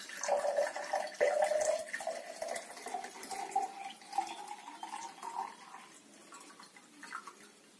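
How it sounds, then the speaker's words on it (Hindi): Liquid is poured into a container of dilute sulfuric acid and water during a school chemistry experiment, giving a soft, continuous trickling and splashing that gradually thins out, fairly faint and with no voices. "डाइल्यूट सल्फ्यूरिक एसिड है, इसमें बहुत सारा पानी मिला हुआ है, तो हम इसमें ये डाल देंगे"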